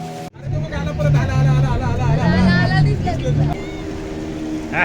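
A motorboat on the sea off Devbag Beach rumbles with a steady engine drone while people chatter and call out over it, the motor noise continuing throughout.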